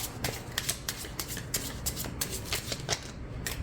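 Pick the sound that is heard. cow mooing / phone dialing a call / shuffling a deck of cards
shuffling a deck of cards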